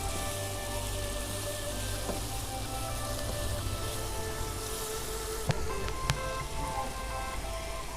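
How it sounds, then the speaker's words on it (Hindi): Tomatoes fry in a hot pan for achar gosht, giving off a steady, dense sizzle that holds at an even level throughout, with a couple of faint clinks near the end. "अब टमाटर डाल देंगे। अब इसे अच्छी तरह से हम फ्राई कर लेंगे।"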